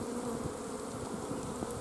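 Honeybees buzz in a dense, continuous swarm around multiple hives during a nuc install, a soft steady hum with individual bees passing close now and then.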